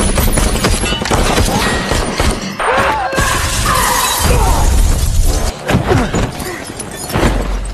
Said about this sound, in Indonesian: aksi saling tembak-menembak pun tak terhindarkan